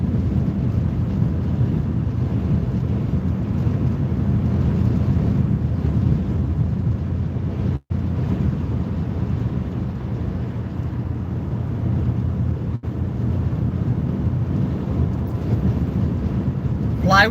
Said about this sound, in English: I think the wind is going to blow us off the road today.